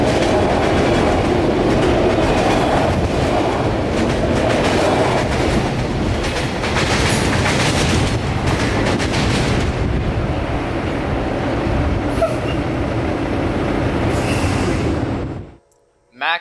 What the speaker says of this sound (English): This train will continue west until they reach Plant City